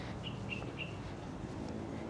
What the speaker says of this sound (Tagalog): Ang dami ako narinig ng mga mga ibon.